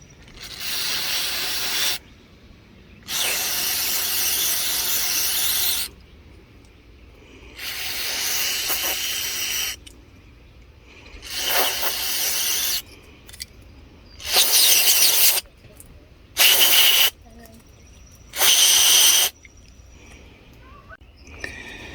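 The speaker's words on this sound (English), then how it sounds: "just want to spray some of this cleaner down inside of there on that little sensor" Repeated bursts of aerosol cleaner spray hiss close by onto a Ford Focus MAF sensor, some long and some short, separated by quiet pauses.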